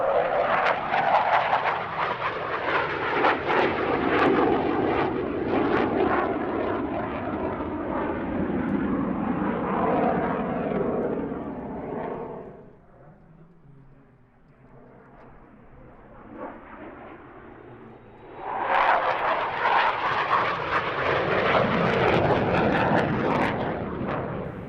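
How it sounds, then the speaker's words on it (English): A Swedish Air Force historic flight Saab J-34, the Hawker Hunter Mark 50 jet, roars past at the Gdynia AeroBaltic airshow, loud on approach, dipping briefly as it passes, then swelling again as it flies away. "Another aircraft from the Swedish Air Force historic flight stable, the J-34 Hunter."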